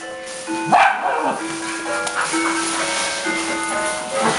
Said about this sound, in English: Barking brawlers.